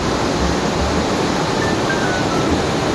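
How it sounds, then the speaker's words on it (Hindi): A river rushing beside a trekking trail near Taluka village in Uttarakhand, a steady broadband roar of flowing water with no pauses, close and fairly loud, with no voices. "रास्ते में हमें नदी मिली।"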